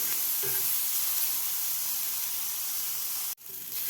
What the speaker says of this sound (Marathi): तर टोमॅटोसुद्धा आपल्याला एक मिनिटभर परतून घ्यायचा आहे